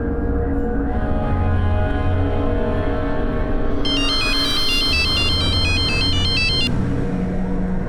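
A phone ringtone rings out in a melodic repeating pattern for about three seconds, heard over a steady background drone of traffic or an engine in a tense crime drama scene.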